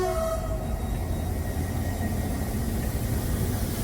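A locomotive throttling up in the city-building game Cities: Skylines, a loud continuous rail rumble with a brief horn-like tone at the start, steady and near.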